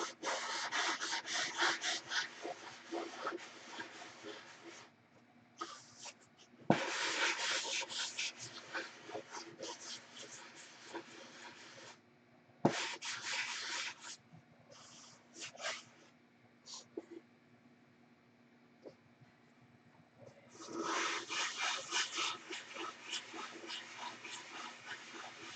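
Wooden sheeting being sanded by hand, with bursts of rough rubbing and scraping strokes that stop and start, separated by quieter pauses and a couple of sharp knocks.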